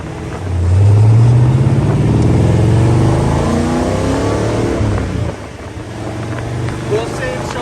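A 1986 AC Cobra Mk IV V8 sports car driving, heard from the passenger seat: a loud engine roar that climbs in pitch, eases, then drones on with wind noise.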